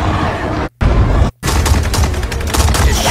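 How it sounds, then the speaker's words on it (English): Guns firing during a Mortal Kombat 11 match, loud dense bursts of rapid gunfire split by two brief silent gaps, continuous and close, with no speech over it. "Just shooting the guns"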